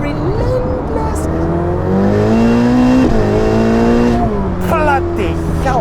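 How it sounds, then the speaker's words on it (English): A Novitec-tuned Ferrari 488 Pista with a twin-turbo V8 making 802 horsepower accelerates hard, its loud engine note climbing in pitch through the gears with a brief dip at each shift, close and continuous. "Twin turbocharged V8 engine with our power module now kicks out 802 horsepower, 898 Newton meters of torque."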